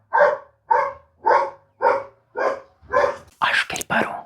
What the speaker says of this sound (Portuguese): Eu realmente espero que vocês não estejam ouvindo o cachorro.